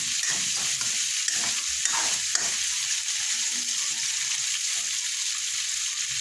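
Vegetables for pinakbet sauté and toast in a hot pan, a steady loud sizzle running throughout with several scraping stirs near the start.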